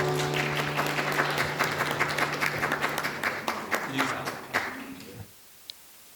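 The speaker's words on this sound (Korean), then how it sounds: "박수 한번 보내주세요" A congregation at a Sunday service of a Korean Presbyterian church in New Zealand gives a close, steady round of applause. It fades and stops abruptly after about five seconds, leaving near silence with one small tap.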